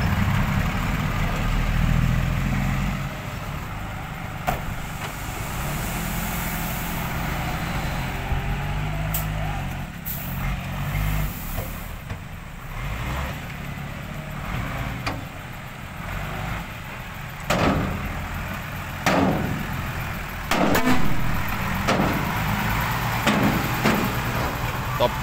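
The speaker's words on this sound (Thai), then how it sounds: "รถไถครับคูบาต้า L3608ครับ ดันดินอยู่ที่หน้างาน" Kubota L3608 tractor pushing soil at a worksite, its diesel engine idling and labouring as a steady low rumble, with clunks and scraping throughout and someone talking over it.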